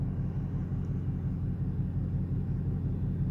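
A Dodge Hellcat with a 700-horsepower engine pulling onto an old highway, a steady, deep engine rumble droning throughout, moderately loud, with no voices.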